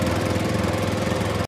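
Engine of Noor, a magic tractor in a 2D animated cartoon, a steady loud chugging drone running evenly before cutting off abruptly, without speech.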